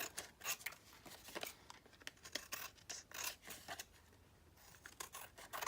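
Scissors snip through scrapbook paper in a run of quick, close, crisp cuts with short gaps between, with no talking.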